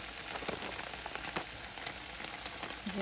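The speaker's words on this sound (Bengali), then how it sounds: "এই যে ঢেঁড়স ভাজি হচ্ছে, এটা প্যাকেটে ফ্রোজেন ঢেঁড়স।" Frozen packaged okra fries in a pan with a steady, dense crackling sizzle that resembles rain on a surface, continuous and fairly close.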